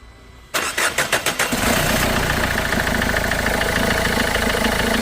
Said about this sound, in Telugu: ఒకసారి ఇంజిన్ అయితే స్టార్ట్ చేస్తున్నాను సౌండ్ ఎలా వస్తుంది ఏంటన్నది అయితే చూద్దామండి